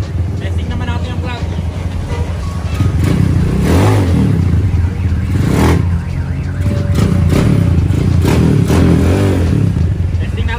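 A motorcycle engine runs after a push start, a close, steady rumble with a few revs and clattering, while someone talks over it.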